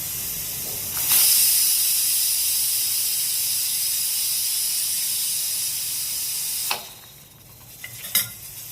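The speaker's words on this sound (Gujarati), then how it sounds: "કુકરનું ઢાંકણું સરખી રીતે બંધ કરીને 2 સીટી વગાડ દો" Pressure cooker with stuffed brinjal venting steam, a loud sustained hiss that cuts out abruptly, followed by quieter bursts of hissing near the end.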